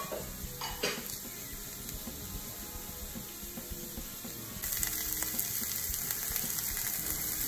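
Onions fry in a pan for a vegetarian curry while a utensil stirs them, giving a steady quiet sizzle with intermittent scraping and clinks against the pan, and the frying grows louder near the end.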